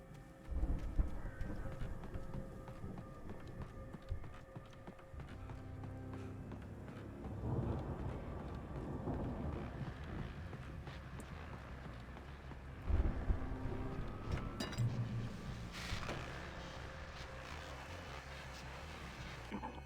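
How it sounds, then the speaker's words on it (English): Thunder rolls through a steady wash of rain and wind during a storm in Alan Wake, quiet overall, with low rumbles swelling in several places and a few sharper cracks, no voices. "that storm we all felt coming is finally here"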